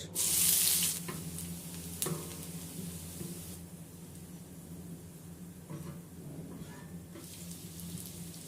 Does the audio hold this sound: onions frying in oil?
yes